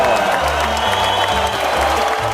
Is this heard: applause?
yes